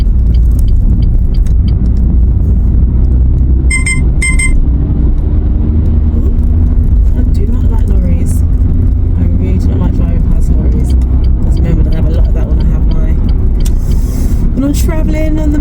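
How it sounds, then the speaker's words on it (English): A car cruises along a motorway with a steady, loud low road and engine rumble throughout, joined by brief higher whines and hiss from passing traffic. "Traveling on the motorway, and we're driving for 2 hours"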